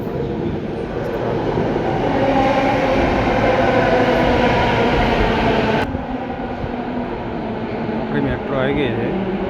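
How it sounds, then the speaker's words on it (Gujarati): An Ahmedabad Metro train pulls into a station with a loud, steady rumble and rolling wheel noise that eases slightly after a few seconds as it slows, with faint voices in the background. "મેટ્રો આવી ગઈ છે."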